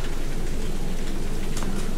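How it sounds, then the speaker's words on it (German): Steady rain falls in a dark horror game, a loud, even hiss of downpour with no break. A faint low rumble sits beneath it. "Der Regen sieht auch top an."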